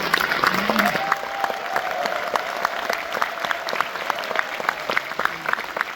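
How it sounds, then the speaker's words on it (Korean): An audience at a book publication event for a district mayor claps loudly and continuously, a dense steady applause with a faint voice briefly audible beneath it. "큰 박수 한번 쳐주시요"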